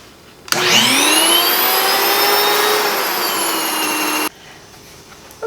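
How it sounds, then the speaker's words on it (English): An electric grain mill grinding sorghum and wheat into flour starts abruptly and runs as a loud, steady high-pitched whine with a rising motor tone for about four seconds, then cuts off sharply. "So first we're going to grind the flour."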